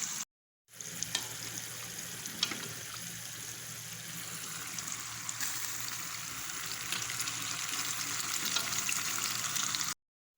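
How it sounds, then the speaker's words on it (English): A pan of vegetable mix fries steadily as pasta is added, a continuous sizzling, watery hiss at low volume with a few faint clinks, holding even throughout before cutting off. "Now I'm going to transfer my pasta into this vegetable mix."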